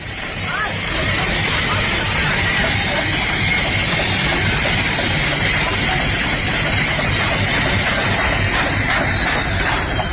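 Helicopter rotor blades keep spinning after an emergency landing on a highway, a loud, steady whooshing roar that runs without a break.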